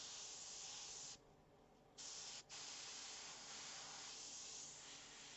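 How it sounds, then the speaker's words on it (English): An airbrush test spray gives a steady loud hiss of air, cut off briefly twice when the trigger is released, then resuming as a continuous spray. "before we ever paint, we always want to test spray"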